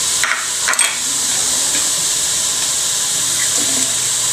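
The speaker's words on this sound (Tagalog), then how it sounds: "Lalagyan ko muna ng kunting tubig." Water is poured into a pan of rendering pork fat while cooking a bottle gourd dish, giving a steady loud hiss and sizzle with a few splashy bursts early on.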